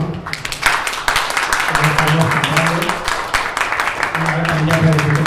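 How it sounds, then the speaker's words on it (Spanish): Audience applause breaks out at a talk on UFO research, dense clapping sustained for about five seconds with voices talking over it. "Bravo, un aplauso."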